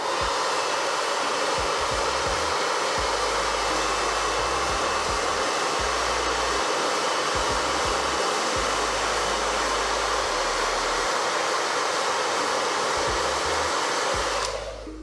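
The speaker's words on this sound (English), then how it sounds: "We haven't actually used the blow dryer yet today" Handheld blow dryer running steadily to dry wash paint on a Warhammer miniature, a loud, even whoosh held for about fourteen seconds before it cuts off.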